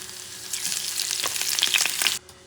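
Slices of Spam sizzle and fry in sesame oil over medium-high heat, a steady crackling hiss with sharper spattering pops that cuts off abruptly near the end.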